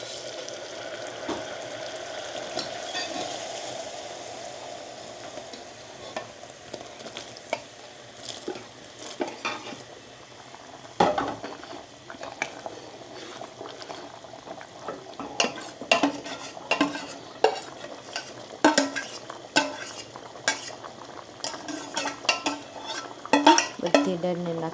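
A spoon stirs dal with cooked spices and water in a pan, with irregular metallic scrapes and clinks against the metal and a soft simmer underneath, growing busier and sharper toward the end.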